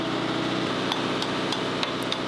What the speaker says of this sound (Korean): 항구 한켠에는 망치 소리, 용접 소리로 분주합니다.